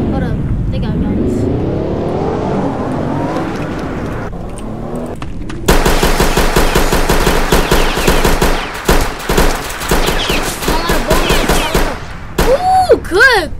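Rapid automatic gunfire from a video game set in the South Bronx, dense bursts of shots that fill the later part of the clip loudly, with an engine-like drone and voices talking earlier on.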